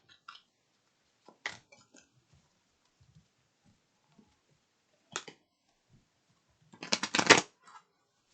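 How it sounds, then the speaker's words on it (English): Tarot cards shuffled and drawn from a deck, a few soft quiet riffles and card slides, the longest burst near the end, with near silence between. "Pull 2 more cards."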